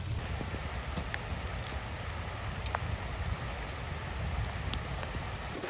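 A downpour of heavy rain drums without pause in the mountainous Tedzami river gorge at Rkoni, a thick, even wash of droplets striking nearby surfaces, with occasional sharper drips and no talking.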